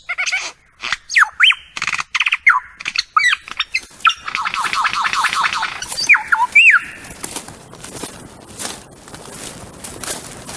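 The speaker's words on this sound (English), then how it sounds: "why does a bird, which has such an incredible, beautiful flute-like voice, make such extraordinary hisses and clicks and rattles?" A lyrebird produces a rapid series of hisses, clicks, rattles and squeaky whistles, close and loud, in a busy irregular burst that thins toward the end.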